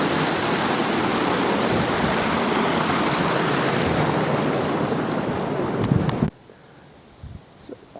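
The River Dane rushing in a steady, loud broadband wash close by for about six seconds, then cutting off abruptly to a quieter background with faint scattered sounds.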